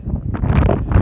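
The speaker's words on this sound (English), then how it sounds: "It's windy." Wind gusting straight into a handheld microphone outdoors on a windy morning, a loud low rumbling buffet that swells and pulses unevenly through a brief moment.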